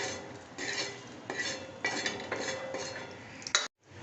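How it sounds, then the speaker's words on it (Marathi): Roasted whole spices for a village-style mutton rassa being scooped from a hot pan with a small spoon, giving a run of close metallic scrapes and clinks in several bursts, ending abruptly. "हा भाजलेला मसाला आपण आता काढून घेतोय"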